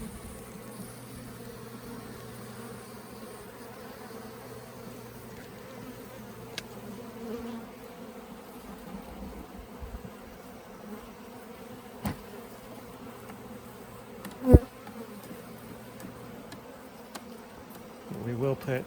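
Honeybees drone steadily around an open hive holding a queenless colony, a continuous close buzz lasting throughout, broken by a few brief clicks and knocks of frames being handled.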